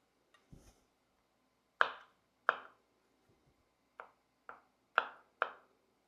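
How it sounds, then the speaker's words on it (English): A kitchen knife chops through garlic cloves on a cutting board in six crisp, separate knocks spaced irregularly, close and clean against near silence, as garlic is sliced and crushed for a tri tip marinade. "we're just going to slice this garlic up, crush it a little"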